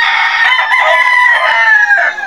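A sick backyard chicken under treatment, on its third day of recovery, gives a loud, sustained crowing call that holds steady for about two seconds, close to the mic with no talk over it.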